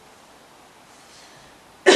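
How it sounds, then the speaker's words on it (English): A sudden loud cough bursts out at the very end after nearly two seconds of quiet room tone. "I didn't mean to cough."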